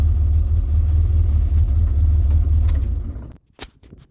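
Vauxhall Viva engine with a replacement carburettor fitted, idling in a steady low rumble close by for about three seconds, then cutting out abruptly and leaving a few faint clicks and knocks.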